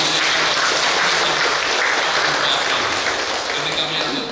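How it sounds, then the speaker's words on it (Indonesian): Applause from a church congregation at the dedication service of a Javanese church in Klaten, a steady, dense wash of clapping that holds at full strength for the whole stretch with a little background voice mixed in. "Tepuk tangan untuk kedisiplinan."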